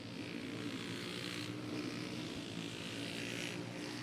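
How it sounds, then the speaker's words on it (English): Big, fast racing kart engines run at a motorsports park, a steady dense roar that holds loud and continuous throughout with no talk. "Oh, I hear some big engines running."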